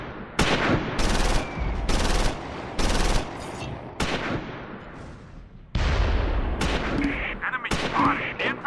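Repeated bursts of machine gun and rifle fire in the WWII strategy game Close Combat 4, Battle of the Bulge, with a BAR squad and a medium machine gun firing on Germans; loud, regular volleys with short gaps and some shorter shots near the end.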